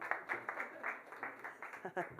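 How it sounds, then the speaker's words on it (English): An audience claps at a sports book launch celebrating African sports leadership, a steady run of quiet, fairly distant applause with irregular bursts and a brief voice rising through near the end. "Please, let's keep clapping, I beg you."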